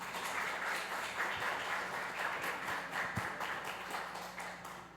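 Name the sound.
audience applause at workshop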